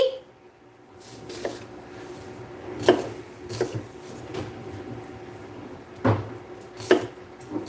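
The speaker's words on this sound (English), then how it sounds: "So you're just going to chop the onion as small as you'd like" A knife chops an onion on a board in a home kitchen, making a handful of irregular, fairly soft knocks over quiet room noise.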